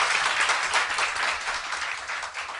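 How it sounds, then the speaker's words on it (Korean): A studio audience claps steadily during a Korean talk show about the Sewol ferry, a full, even wash of applause lasting a few seconds without pause. "박수."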